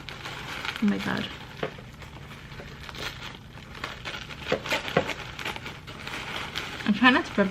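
Tissue paper crinkles and rustles in short bursts while a bookish subscription box is unboxed, close handling noises with a person talking intermittently over them.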